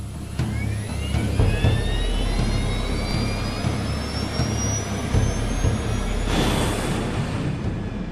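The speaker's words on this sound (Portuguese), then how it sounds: "Empuxo de decolagem." Jet airliner engines at takeoff thrust on TWA flight 800, a steady loud roar with rising whine tones that builds and brightens near the end, with no voices.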